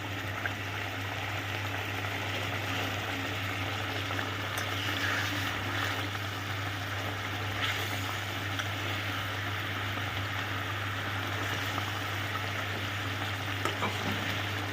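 Koi fish frying slowly in spiced oil over low heat, a steady soft sizzle and crackle holding evenly throughout, with a constant low hum beneath and occasional faint stirs or turns of the fish.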